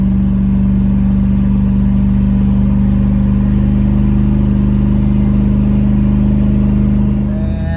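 A 1989 Range Rover Classic engine runs through its repaired exhaust, a loud, steady, deep rumble held close up and almost unchanging, with a slight shift in tone right at the end and no voices.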